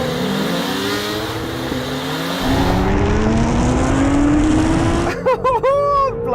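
A Honda NSX car and a 2018 Honda CBR1000RR motorcycle launch in a drag race, engines revving loud and rising steadily in pitch through the gears, with shifts partway and a brief burst near the end.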